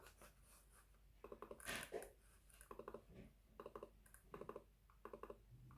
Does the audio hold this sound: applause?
no